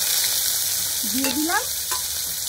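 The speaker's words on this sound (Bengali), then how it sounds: "জোয়ান, মৌরি আর জিরে। এগুলোকে আমি তেলের মধ্যে দিয়ে দিলাম।" Ajwain, fennel and cumin seeds sizzle steadily in hot oil, a dense continuous crackle with a couple of brief sharper pops, no talking.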